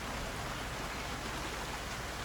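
Rain falls steadily outdoors as a dense, even hiss of drops, constant and close throughout, with no voices.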